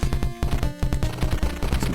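Rapid bursts of shots and powered explosions from the NES game Jackal, a dense run of repeated blasts that stays loud and close with only short gaps between them.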